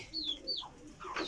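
Pigeons coo softly in a loft, a brief, faint run of low, throaty calls mixed with a few higher chirps.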